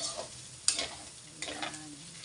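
Meat frying in its own rendered fat, stirred in the pan, with a soft sizzle broken by two short bursts of scraping and stirring.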